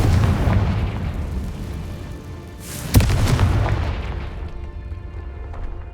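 A Confringo fire-spell explosion in Hogwarts Legacy: a single sharp, loud boom bursts out of a steady rumbling game soundscape and then rolls away into a low roar.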